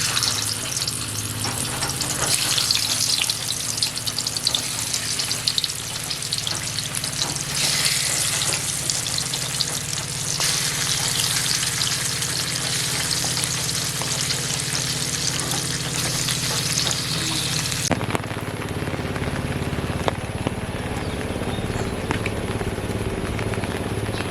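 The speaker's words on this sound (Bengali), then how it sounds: "তেল গরম হয়ে গেছে, মাছগুলো একে একে ভেজে নেব।" Sitapati and bele river fish fry one by one in hot oil in a kadai, a loud, dense, continuous crackling sizzle with stirring scrapes that drops in intensity near the end.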